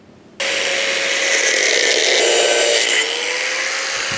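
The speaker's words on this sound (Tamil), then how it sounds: "அந்த போல்ட் உள்ளர போற அளவுக்கு நான் ட்ரில் பண்ணிக்கிறேன்." An electric drill bores a hole in an iron plate, starting abruptly with a loud, high-pitched whine and grinding that holds for several seconds before easing slightly near the end, heard up close.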